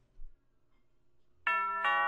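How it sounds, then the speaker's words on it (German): A two-tone ding-dong doorbell rings once, loud and clear, after a near-silent pause; the second tone follows the first about half a second later, with no talk. "Am nächsten Morgen klingelt es an der Tür"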